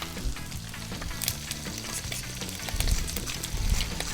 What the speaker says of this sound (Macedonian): Мешаме шампиньоните.